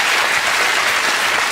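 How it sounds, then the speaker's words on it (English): Studio audience applause, a dense, even wash of clapping from a large crowd, loud and sustained with no talk over it. "You literally applauded fire."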